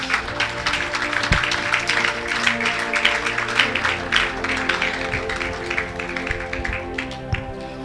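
A church congregation claps and cheers in praise, producing dense rapid applause with broad noisy bursts over a low sustained musical hum, moderately loud and continuous, with occasional thumps.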